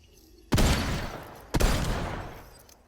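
Two loud, close pistol shots in the Fortnite video game, about a second apart, each a sharp crack followed by a long, fading reverberant tail, with no voices.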